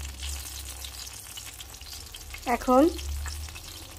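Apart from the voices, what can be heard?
pointed gourd frying in a pan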